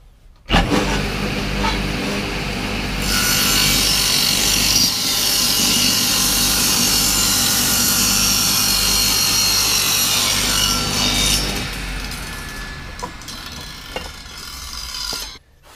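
Timber is cut into staves for a djembe drum with a power saw and jig, making a loud, continuous rasping cutting roar for over ten seconds before winding down with some handling noise.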